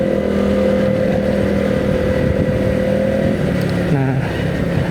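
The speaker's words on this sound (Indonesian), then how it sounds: "Ini sore hari rame euy. Banyak pemotor-motor tuh lewat sini." Motorcycles and cars pass on a busy afternoon street on the outskirts of Jakarta, a loud, continuous engine drone with revving swells, and a voice talks beneath the traffic.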